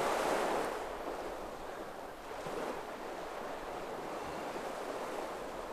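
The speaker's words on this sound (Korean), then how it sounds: "아이고, 파도 소리 좋다." Waves roll and break against the Ulsan shore in South Korea in a continuous roar, loudest at the start, then easing into a steady churning wash with wind.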